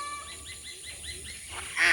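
Geese or ducks honking in a short run of repeated calls outdoors by water in a village, with a louder call near the end.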